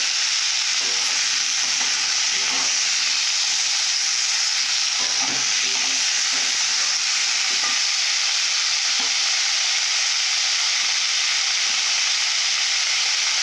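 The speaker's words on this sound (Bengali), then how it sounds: "পেঁয়াজ আলু সজনা কালা একসঙ্গে দিয়ে ভালো করে কষে নেব" Onion, potato and drumstick being sautéed together in a pan give a loud, constant hiss and sizzle throughout, with faint stirring scrapes underneath and no voices.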